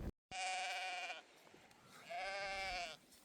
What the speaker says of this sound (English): There's sheep on the path.